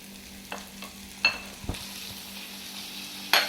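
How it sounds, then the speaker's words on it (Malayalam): Tomato and green chilli frying with softened onions in a pan, a low steady sizzle broken by a few soft spatula scrapes and small clinks. "അപ്പോൾ നമുക്കിനി തക്കാളിയും പച്ചമുളകും കൂടി ഇട്ട് കൊടുക്കാം."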